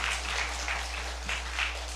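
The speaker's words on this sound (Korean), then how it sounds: "박수!" Church audience clapping at a Sabbath health seminar, a steady broadband patter of hands from a room full of congregants, fairly soft and continuous throughout with no voices over it.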